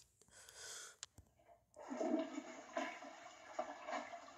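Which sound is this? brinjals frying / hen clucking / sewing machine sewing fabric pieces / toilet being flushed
toilet being flushed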